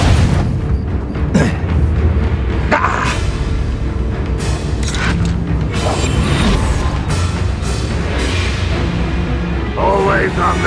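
In Hogwarts Legacy, an Incendio fire spell blasts out amid continuous loud combat, with booming impacts, crackling bursts and rumbling effects layered under music with no pause.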